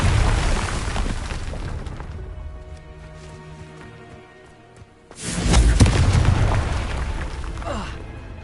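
A Confringo spell blast in Hogwarts Legacy: a booming burst lands near the start, then the rumble fades into a quieter stretch before a second loud explosive surge strikes around five seconds in and rolls on to the end.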